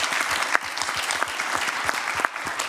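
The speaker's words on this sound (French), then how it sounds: "Bravo, on peut applaudir justement le représentant de la ville de Cuneo." Audience applause at the Nice Climate Summit, a dense, steady spread of many hands clapping through the whole stretch with a few sharper claps standing out, fairly close and alone without talk.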